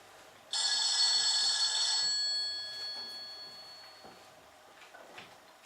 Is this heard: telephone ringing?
yes